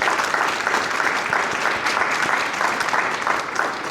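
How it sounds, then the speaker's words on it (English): Steady, loud applause from an anniversary program audience, dense clapping sustained evenly throughout without a break. "Let's give Doreen another round of applause"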